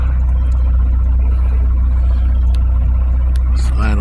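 Turbocharged D16Z6 engine in a Honda Civic EJ1 idling after warm-up, a steady low rumble that stays constant and loud throughout.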